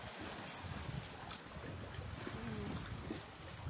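Wind gusts buffet the microphone in a steady outdoor rush on an open beach at low tide, with a faint wash of waves in the background.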